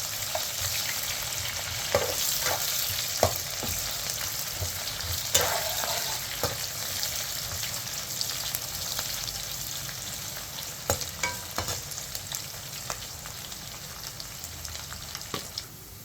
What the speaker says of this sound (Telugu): తర్వాత కరివేపాకు వేసుకోవాలి.